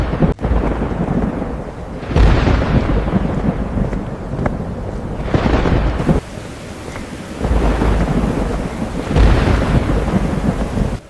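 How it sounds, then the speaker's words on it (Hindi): Heavy rain pours steadily while deep thunder rumbles roll in several times, loud and close. "लगता है बारिश होने वाली है।"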